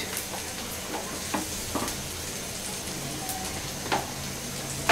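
Rui fish frying in oil with spices gives a steady, close sizzle with scattered crackles and a few light stirring knocks, and no one speaks.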